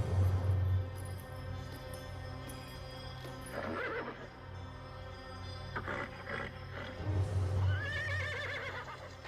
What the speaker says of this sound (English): Sure are a funny-looking horse, aren't you, boy?